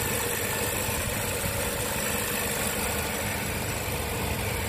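A 2013 Nissan Serena Highway Star engine idles steadily and smoothly at close range, a continuous even rumble with no other sounds.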